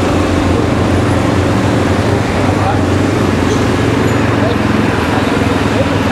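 Loud, dense road traffic in Rio de Janeiro with motorcycle taxis among the vehicles, a constant roar of engines and rumble close by, with a person talking over the noise.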